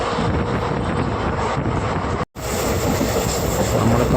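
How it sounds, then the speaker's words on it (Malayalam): Maveli Express running at speed between Thiruvananthapuram and Kannur, heard from inside a general class coach as a loud, steady roar of wheels and rushing wind, with a brief dropout partway through. "നല്ല സ്പീഡിലുണ്ട് ട്രെയിൻ പോകുന്നത്"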